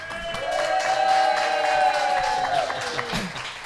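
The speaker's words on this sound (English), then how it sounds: "If I could have everybody in here give a big round of applause for Guarneri's." Diners in a restaurant clap and cheer, with scattered hand claps under a rising and falling whooping voice, moderately loud and lasting a few seconds.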